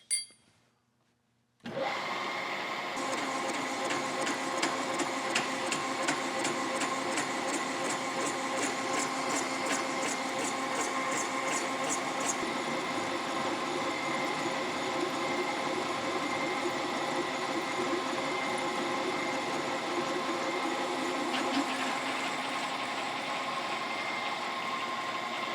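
A metal lathe takes a 0.050-inch cut on a pouring mandrel for a large cane mill restoration. A steady machine drone with a faint cutting whine starts after a short silence and runs unbroken.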